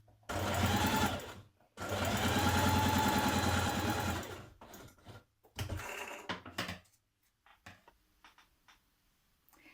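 A sewing machine stitches the underarm seam of a classic top with a 1.5 cm seam allowance, running in two long close bursts, then shorter stop-start stitching and a few faint clicks and taps.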